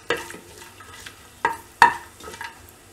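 Whole spices, bay leaf and cardamom sautéing lightly in ghee and oil for mint pulao, a soft sizzle broken by a few sharp stirring clacks and scrapes of a spoon against the pot.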